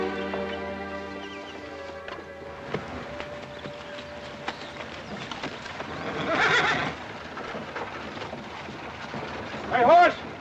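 A horse-drawn wagon rolls along with its horses' hooves clopping, and a horse lets out a loud whinny near the end, all under a steady background bed.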